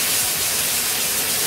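A mushroom hits a hot pan of onion and sizzles with a steady, loud broadband hiss that fills the whole moment without pause, close up and unbroken.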